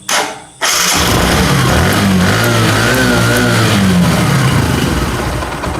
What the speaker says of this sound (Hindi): साइलेंसर से फटफट करके साउंड आ रहा है, मतलब ये मिसिंग भी कर रहा है।